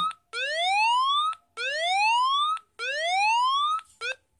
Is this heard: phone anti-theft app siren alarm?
yes